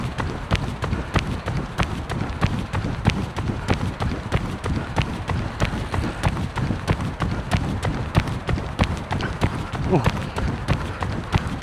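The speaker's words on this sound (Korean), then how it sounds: "양발 밸런스가 맞은 제 발소리가 좀 다르게 들리는지 한번 들어보실래요?" Running footsteps on a sunny Han River path in Seoul, a steady quick cadence of footfalls with both feet landing evenly, close and continuous over outdoor ambience.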